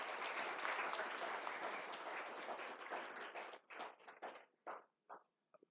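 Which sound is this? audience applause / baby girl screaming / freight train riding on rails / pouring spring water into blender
audience applause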